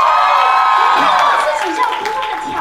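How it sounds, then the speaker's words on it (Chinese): A large concert crowd at a world tour concert in Taipei bursts into loud, sustained applause mixed with high-pitched screaming and cheering, dense and continuous throughout. "这次是不是应该来个掌声跟尖叫声？"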